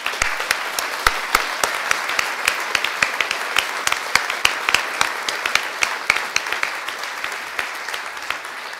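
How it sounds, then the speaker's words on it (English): Audience applause at an annual awards ceremony honoring a police chief, a dense steady wash of many hands clapping with sharp individual claps standing out, sustained at an even level throughout. "please join me in applauding Chief Saunders for all he has done"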